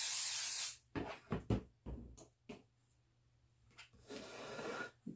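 StarBond glue accelerator sprayed from a bottle during a farmhouse Christmas craft with rolling pins: a loud hissing burst at the start, a few short knocks and puffs, then a second longer, softer spray hiss near the end.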